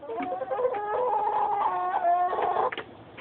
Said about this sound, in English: Yes, baby chicken, stop complaining.